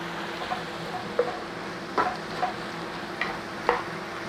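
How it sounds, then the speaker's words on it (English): Carrots and celery cooking in a pan, a soft steady sizzle with a few light stirring scrapes and taps spread through, close and moderately loud, no talking. "So all you're doing is cooking until the celery and carrots are soft."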